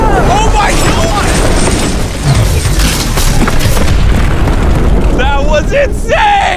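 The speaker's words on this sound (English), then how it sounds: "Down goes the domino!" The world's tallest domino toppling over, landing with a loud, heavy boom under sustained crowd noise and shouting voices.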